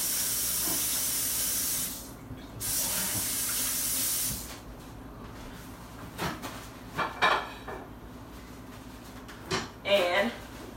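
Tap water running steadily at a kitchen sink during hand washing, a loud hiss for the first few seconds, then stopping, followed by scattered clinks of dishes and utensils nearby.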